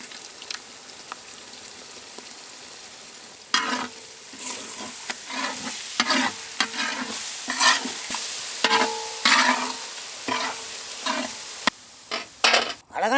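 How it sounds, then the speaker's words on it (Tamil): Ground masala being stirred into a village-style mutton curry in a pot, with repeated scraping and stirring strokes over a soft sizzle, close and moderately loud, quieter for the first few seconds, no talking. "அரைச்ச மசாலா கலக்கி வச்சுக்கணுக்கா."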